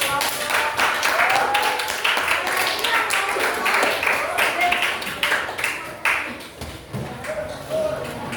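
A junior high classroom of students applauding with steady, crowded clapping that runs throughout, with voices talking over it.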